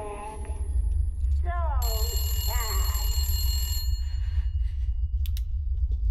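A telephone rings in the video game Resident Evil Village: Shadows of Rose, a bright, bell-like trill lasting a couple of seconds over a constant low rumbling ambience, with a voice briefly heard nearby.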